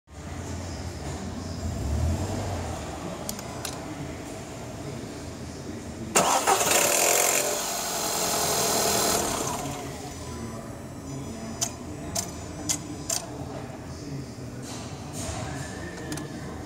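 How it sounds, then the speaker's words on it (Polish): A car engine with a worn timing chain and a worn hydraulic tensioner cranks and fires, giving a brief loud rattling burst on startup that settles after a few seconds into a steadier idle, heard up close with no voices. "zużytego łańcuszka rozrządu i napinacza hydraulicznego."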